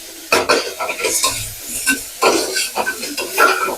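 Ginger garlic paste sautéed in a pan for tomato rice, with a spoon scraping and stirring in uneven bursts over a soft sizzle.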